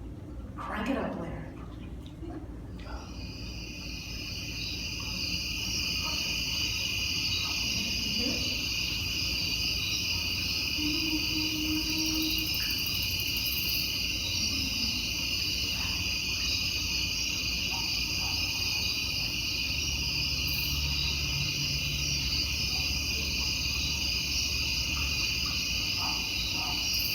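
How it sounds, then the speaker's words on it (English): Crickets and katydids chirp in a nature recording, pure steady insect tones entering after a few seconds and holding as a dense continuous chorus, with faint rhythmic pulses and scattered low sounds beneath. "see if you can hear some pure tones of the crickets or some rhythms of a katydid or two"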